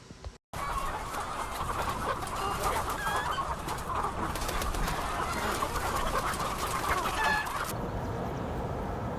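Chickens cluck and chatter steadily at a chicken farm in Preston, Idaho, many birds overlapping in a busy, close flock chorus that runs for several seconds, then cuts off abruptly.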